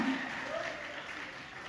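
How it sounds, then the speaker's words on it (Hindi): A brief burst of audience applause at a Hindi poetry recital, a mass of clapping that starts strongly and then fades slightly over under two seconds. "तालियां बजाएंगे जोर से, अपने लिए भी और मेरे लिए भी।"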